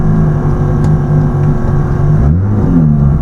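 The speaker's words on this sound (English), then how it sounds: "Got a truck going in reverse" A truck going in reverse nearby: steady engine rumble with a brief shift in pitch near the end, with no reverse beeping evident.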